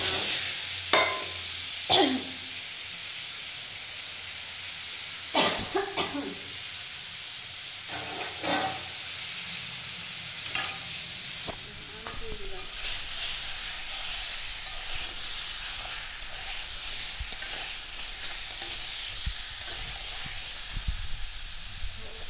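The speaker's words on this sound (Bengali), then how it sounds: "এখন দিচ্ছি একটু পাঁচ ফোড়ন" Panch phoron spices sizzle in hot oil in a pan for chutney: a steady, close frying hiss that runs throughout and grows brighter and denser partway through, with a few stirring knocks early on.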